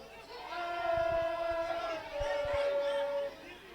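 Crowd at a local club rugby union match in South Africa roaring and urging on a long kick at goal, a sustained swelling roar in the distance beneath a commentator's voice.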